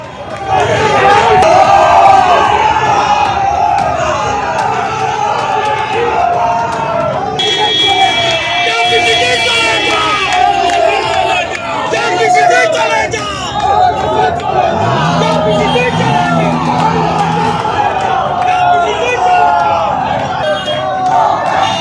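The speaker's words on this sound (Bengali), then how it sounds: "তার কনভয় উদ্দেশ্য করে চোর চোর স্লোগান একদিকে তৃণমূলের, অন্যদিকে পাল্টা স্লোগান বিজেপির" A large outdoor crowd chants slogans and counter-slogans at a political convoy outside Barasat College in West Bengal, with loud rhythmic shouting, babble and a brief whistle or horn-like tone cutting through the steady din.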